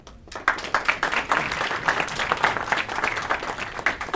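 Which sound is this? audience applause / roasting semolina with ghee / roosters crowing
audience applause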